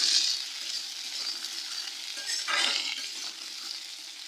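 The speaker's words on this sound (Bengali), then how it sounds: "আলু কুমড়ো দুটোকেই খুব ভালো করে কিন্তু ভেজে নিতে হবে" Cut pumpkin and potato fry in a pan with a soft, even sizzle and an occasional brief stir. The sound is moderately faint and close, and no one speaks.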